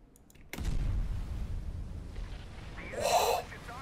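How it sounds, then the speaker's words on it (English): A torpedo fired from a submarine, the French Surcouf, strikes its target during a Steel Ocean naval battle: a broad low rumble swells from about half a second, then a louder muffled blast near the end, with a voice speaking over it. "That's like a torpedo hit right there"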